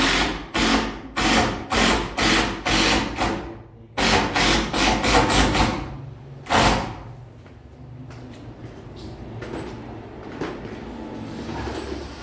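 Power screwdriver driving screws into wood in short loud whirring bursts, about a dozen in quick succession, then quieter handling noise and a few faint knocks.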